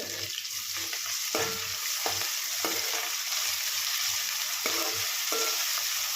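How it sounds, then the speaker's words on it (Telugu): Onions and ginger-garlic paste fry in a pan with a steady, close sizzle, broken by repeated scraping stirs of a spatula; no one speaks. "ఇది పచ్చి వాసన పోయేంత వరకు ఫ్రై చేసుకోవాలి"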